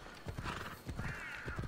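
Horse hooves clip-clop steadily in Assassin's Creed Odyssey, with a few snorts and whinny-like calls mixed in, close and fairly loud with no talking over them.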